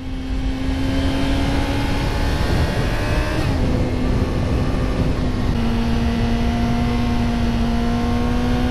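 A 2019 Yamaha R6 motorcycle engine holds a high, steady revving tone while riding, with its pitch shifting slightly, under loud continuous wind rush.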